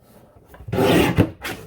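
Cardstock being trimmed into card bases on a paper trimmer, two sheets cut together: a short, close rasping slide of the blade lasting about a second, then a brief second scrape.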